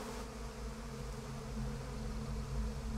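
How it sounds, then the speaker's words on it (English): Bees buzz continuously in a dense, steady drone in the Psychonauts 2 video game, faint but unbroken throughout. "Want me to kill those bees?"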